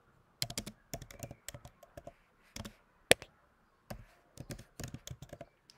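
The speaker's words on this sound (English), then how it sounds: "So you have to write" Bursts of typing on a computer keyboard as a project name is entered in the Overleaf LaTeX editor, quick clusters of close key taps separated by short pauses, fairly quiet and with no talking.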